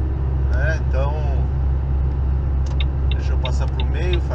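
A heavily loaded truck climbs the Serra do Cafezal grade at full throttle with the turbo working. Its loud, steady, low engine drone runs throughout, with someone talking over it.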